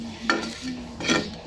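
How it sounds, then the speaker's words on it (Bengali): Dried fish and chilies fry in a pan, a continuous close sizzle broken by two brief louder bursts of stirring or utensil scraping, no talk. "ফ্রাই প্যানে এগুলো গরম করে নেব এবং ভেজে নিব"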